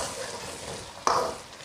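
Chili powder stir-fried in rapeseed oil in a wok, with Sichuan bean paste, ginger, scallion and garlic, gives a continuous low sizzle and one sharp scrape of the spatula near the end.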